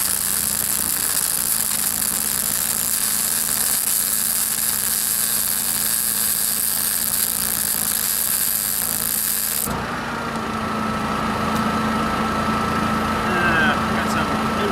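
An engine-driven welding generator runs without pause on a John Deere 110TLB backhoe repair job, a dense, steady mechanical roar that shifts to a slightly different tone partway through.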